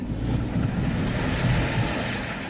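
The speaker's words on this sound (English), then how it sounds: "That was about a foot of water, no big deal" A 2015 Jeep Renegade Trailhawk off-roading splashes through about a foot of muddy water, giving a steady loud rushing wash of water and wind with no distinct breaks.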